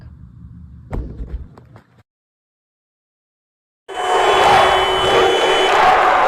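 A Bangor Christian crowd at a girls basketball quarterfinal roars loudly and steadily, following a brief muffled stretch and near silence.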